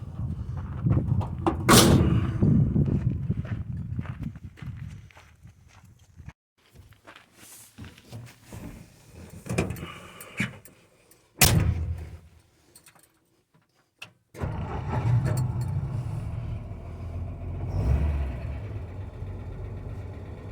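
A 1959 Ford F100 pickup with a Ford-O-Matic automatic transmission on a test drive, its engine rumbling and idling with sharp door or mechanical bangs, quiet stretches in between, then a steadier driving drone near the end.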